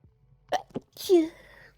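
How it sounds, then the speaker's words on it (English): A single sneeze, close and fairly loud, preceded by a couple of short breathy sounds. "Oh god, I'm gonna sneeze."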